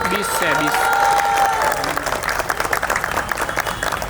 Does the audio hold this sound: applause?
yes